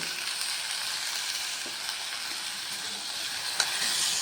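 Ponnaganti leaves cooking in oil over a low flame, a steady, even hiss of frying that carries on without a break, with a faint tap now and then.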